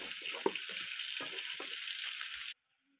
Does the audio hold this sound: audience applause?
no